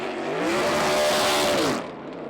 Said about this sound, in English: The screaming sounds of 37 V8 engines reverberated around the high country last weekend